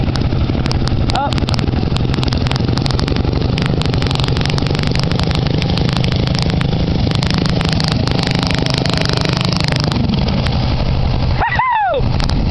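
A loud, steady engine roar from an off-road vehicle in mud, running continuously and close, with a brief whoosh near the end; voices can be heard faintly.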